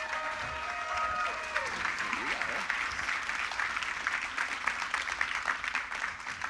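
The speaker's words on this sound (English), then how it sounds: "Let's give a round of applause for Brandon Sanderson here." A convention crowd at a fan event claps for the author Brandon Sanderson, dense continuous applause that stays full and even for several seconds, with a few faint voices and tones near the start.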